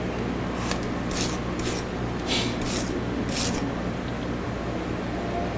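A steel blade scraped clean of tempering clay, steady rasping strokes repeating in short bursts at close range over a constant background hiss.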